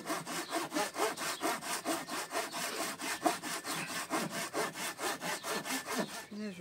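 A hand saw cuts through wood in a garden vegetable-plot setting, steady rhythmic back-and-forth strokes, about four per second, close and clear, ending abruptly with a brief clunk.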